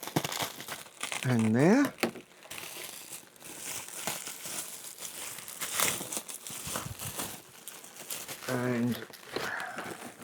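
Packing tape and wrapping being peeled and pulled off a parcel by hand, with bursts of crinkling and tearing between stretches of quiet handling, while a person talks intermittently.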